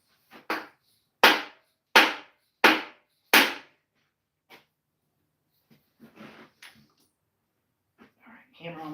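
Several sharp hammer strikes land about once every half second to second, close and loud, then taper into scattered quieter knocks and shuffling; a voice murmurs near the end.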